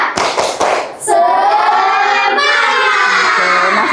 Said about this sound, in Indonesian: Kita kasih semangat buat kita semua dengan tepuk semangat.